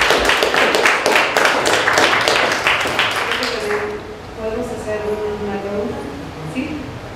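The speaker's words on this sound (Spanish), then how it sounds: "Le vamos a dar un aplauso de la doctora." Audience applauding a visiting doctor after her talk on weeds at the 2014 Guadalajara book fair, a dense burst of clapping that fades after about three seconds as a voice begins speaking.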